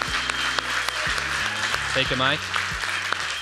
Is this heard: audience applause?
yes